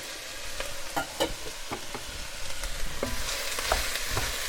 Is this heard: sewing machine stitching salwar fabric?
no